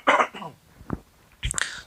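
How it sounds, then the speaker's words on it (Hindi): A person with a cold coughs several times, with a harsh burst at the start, a softer follow-up, a short cough near the middle and another pair of coughs at the end, close and loud with no talking. "थोड़ा सर्दी की वजह से खांसी हो गई"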